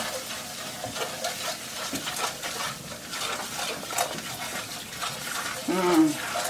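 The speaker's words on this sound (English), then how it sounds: "I just like to add my curry to my oil so it could brown a little bit" Curry powder browning in oil in a pot for crab and dumplings, a soft continuous sizzle with light stirring scrapes, fairly faint and close.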